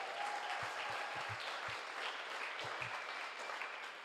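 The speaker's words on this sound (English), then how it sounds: "Let's give them a round of applause." Audience at a youth charity sleep-out event giving a sustained round of applause, a dense wash of clapping with occasional louder hand claps, steady from start to finish.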